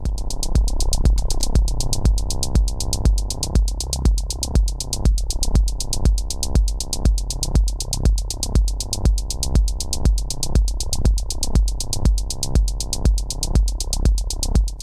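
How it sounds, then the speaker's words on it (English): A bass channel pumps under sidechain compression in Ableton, a loud, continuous, rhythmic throb that swells and ducks in a fast, even pulse throughout, with no voices. "I then turn the threshold down until the sidechain effect is how I want it."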